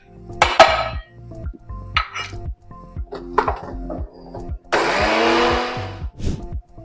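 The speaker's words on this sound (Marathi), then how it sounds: "मेथ्या फिरवून झाल्यात आता आपण त्याच्यातच खोबरं फिरवायचं" A mixer grinder whirs in a steady burst, grinding coconut with fenugreek seeds for a lemon juice chutney, preceded by scattered clinks and knocks of kitchen utensils.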